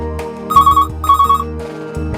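A telephone rings for an incoming caller on a live astrology call-in TV show: two loud electronic ringtone bursts with a short gap between them, over a steady background tone.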